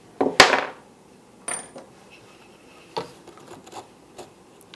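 A few sharp taps driving a piece into a wooden armoire, one loud strike followed by lighter knocks spaced about a second apart, close and dry with no talk.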